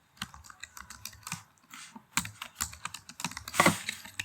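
Rapid, uneven keystrokes on a computer keyboard while entering code for a Python input function, with clustered clicks and a brief louder burst near the end, close and alone.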